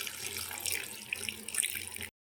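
Water runs steadily onto lemon-sized tamarind to soak it in a home kitchen, a close, rushing splash that stops abruptly near the end.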